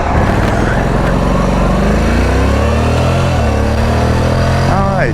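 A Honda CTX 700 DCT motorcycle pulls away from a stop, its engine note climbing steadily through loud, close acceleration with rising harmonics and a quick shift near the end; a voice seems to talk over the engine.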